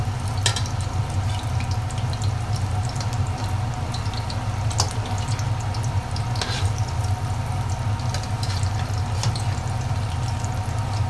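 A daikon radish pancake sizzles and fries in a pan after being flipped, a steady crackling hiss running continuously at close range, with a few sharper pops and clicks scattered through.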